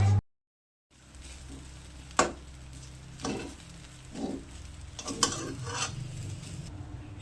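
Semolina (suji) dry-frying in a pan for upma, stirred with a utensil: irregular scraping strokes and soft knocks against the pan over a faint, steady sizzle, close and fairly quiet, with no talking.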